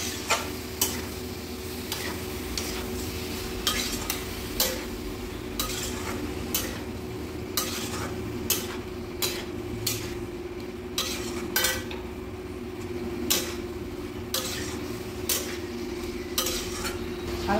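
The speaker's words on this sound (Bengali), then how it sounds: "একসঙ্গে সব ভালো করে মিশিয়ে নেব মশলাটা।" A spoon scrapes and stirs potatoes and mushrooms through masala in a frying pan, clinking in a steady repeating rhythm over a soft sizzle, close and clear with no talk.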